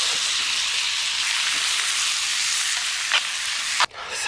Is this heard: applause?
no